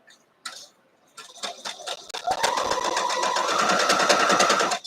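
A sewing machine stitches wedding ring wedge pieces for a gift box bow quilt block, starting with a few short bursts and then running steadily at close range with a rapid mechanical whir.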